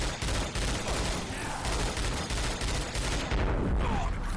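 Rapid gunfire in the video game Darkness 2, dense overlapping bursts of shots crackling continuously for several seconds, loud and close.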